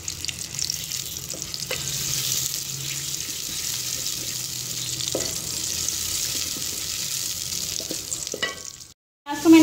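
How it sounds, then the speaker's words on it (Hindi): Onion fries in hot cooking oil for a potato and capsicum sabzi, giving a steady, close sizzle with occasional scrapes of a stirring spoon. A short clatter sounds near the end. "अब मैं इसके अंदर प्याज ऐड करूंगी। प्याज ऐड करने के बाद हम इसे अच्छे से फ्राई कर लेंगे।"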